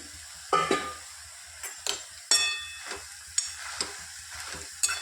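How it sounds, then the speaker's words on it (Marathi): Onions roast on a hot griddle for a vegetable masala dish, with quiet sizzling broken by sharp clinks and scrapes as they are turned and stirred. "आता त्याच तव्यावर आपण तशाच प्रकारे हे कांदेही भाजून घेऊ."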